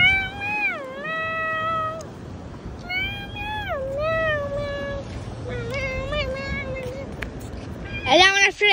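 A person's voice imitates a cat, giving a string of drawn-out, rising and falling meows in several bursts, close and clear over faint background noise, ending in a quicker, louder cluster.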